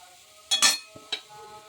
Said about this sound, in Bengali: তার জন্য এখানে একটা কড়াই বসিয়ে দিয়েছি, নারকেল কুড়োটা দিয়ে দিলাম।